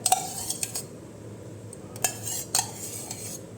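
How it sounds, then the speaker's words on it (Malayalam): A spoon stirs yogurt into okra pachadi, producing a few light metallic clinks and scrapes against the bowl in quick clusters over a quiet background; no voices. "മൂന്ന് ടീസ്പൂൺ തൈര് ചേർത്ത് ഒന്ന് തിരിച്ചെടുക്കാം"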